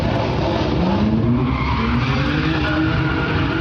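Cars at a Sunday morning street sideshow in a Sacramento neighborhood skid and squeal their tires, with rising engine whine over a continuous loud roar of spinning tires and exhaust.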